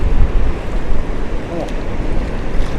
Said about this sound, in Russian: Знаете, какой сильный ветер.